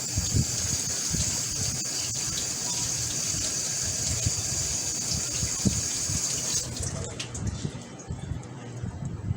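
Fresh parsley and thyme get rinsed under a running kitchen tap, a strong steady gush of water with light splashing that cuts off near the end, with faint background voice.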